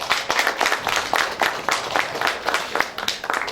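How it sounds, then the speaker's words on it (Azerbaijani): Audience applause at an anniversary gathering with students, a dense burst of many hands clapping steadily and fairly close for several seconds, with no speech over it. "Ona görə gəlin Telman müəllimi 2 qat alqışlayaq."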